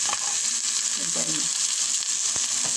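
A single pork chop fries in a teflon pan and is gently stirred, producing a loud, dense sizzle that fills the whole stretch. A faint low murmur and a few light utensil scrapes sit underneath.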